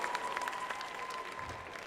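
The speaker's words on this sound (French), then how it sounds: "Oui, vous pouvez vous applaudir." Applause from a group during a French-language sports-spirit address, dense steady clapping heard from a distance throughout, with a faint tone running underneath.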